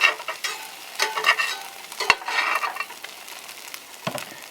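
A crepe cooking in a hot skillet at a camp in the Ochoco Mountains, with a close sizzle and scraping along with scattered clinks of a utensil against the pan.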